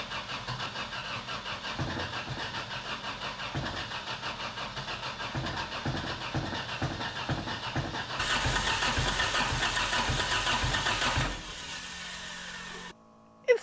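A turbo-swapped project car's starter cranks the engine repeatedly in a steady rhythmic chug, loud and close, rising in intensity before cutting off abruptly near the end.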